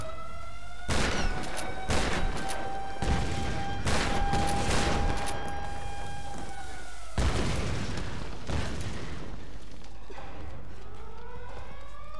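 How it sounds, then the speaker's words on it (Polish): Grenade launcher fire in Tomb Raider (2013): a series of loud, booming blasts spread across the clip, with ringing tones beneath and no talk. "Strzela granatem."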